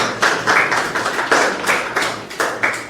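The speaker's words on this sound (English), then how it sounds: "Give you a clap." A small group claps in a steady, moderate rhythm, each clap sharp and close, lasting several seconds without voices.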